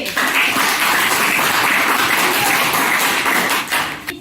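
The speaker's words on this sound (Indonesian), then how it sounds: "tepuk tangan dulu untuk kelompok B" Classroom group applauds a presenting discussion group, a dense, even wash of clapping from many hands that holds steady for about four seconds before fading.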